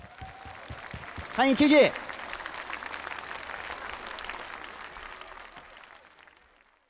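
Studio audience on a music awards show applauding as a young singer is welcomed on stage, a broad wash of clapping that swells, continues and fades out, with a host's voice and brief music over the start.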